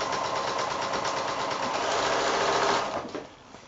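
A sewing machine stitches joins in quilt binding strips, a steady close mechanical whirr at fast, even speed that winds down and stops near the end.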